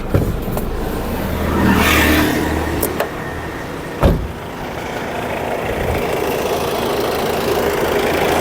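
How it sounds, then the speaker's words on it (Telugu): Honda Mobilio VX diesel car engine running close, a steady idle rumble with a brief swell early on and a few sharp clicks and knocks. "ఇంజన్ కూడా చూడవచ్చు, పర్ఫెక్ట్ ఉందండి. ఆల్రెడీ స్టార్టింగ్లోనే ఉంది కారు."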